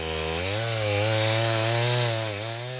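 A chainsaw drones steadily up close, its engine pitch rising slightly as it bites into a waterlogged tree in the Laos jungle, loud and unbroken for a few seconds.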